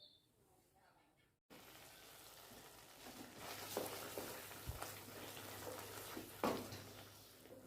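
Onscreen food frying for motor paneer sizzles in a pan over low heat after a brief silence, a soft steady hiss with occasional louder clinks and bursts, faint and close.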